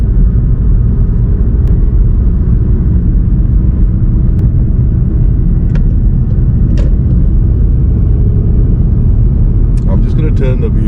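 Car engine and road rumble from inside a vehicle turning around near double mini roundabouts, steady and loud throughout the 11 seconds with a few faint clicks and ticks over the top.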